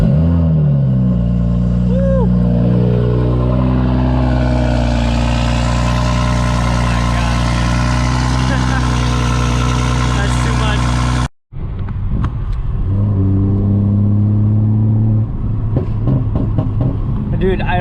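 A 2020 Toyota Supra engine revving on its own, a steady loud drone with rising and falling pitch, briefly cut off, then resuming rougher with faint voices over it.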